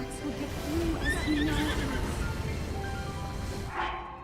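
Princess Zelda's horse in The Legend of Zelda: Breath of the Wild gives a clear whinny over hoof clops and game ambience, with a second shorter neigh near the end.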